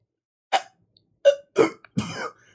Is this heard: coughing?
yes